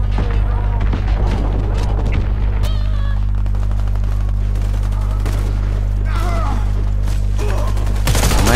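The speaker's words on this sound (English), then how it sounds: "That grenade is going to kill us." Bursts of gunfire and a grenade blast in a Warface team deathmatch on an oil depot map crackle through a steady low hum, with someone talking over the rapid shots.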